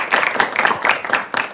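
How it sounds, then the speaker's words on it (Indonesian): A studio audience of young people claps briskly, a dense and fairly loud burst of applause at a televised Islamic religious program. "Tepuk tangan untuk kita semua."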